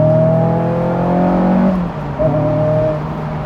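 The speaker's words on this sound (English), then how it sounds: "the exhaust sounds incredible." A rebuilt Honda S2000 sports car revs its exhaust, a loud close engine note rising then dropping off briefly before a second, shorter rev, with no talk over it.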